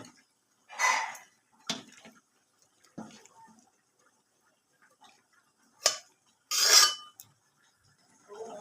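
Scattered clinks and scrapes of a utensil against a dish while cauliflower curry is served, a few sharp isolated taps and short scraping bursts separated by quiet gaps.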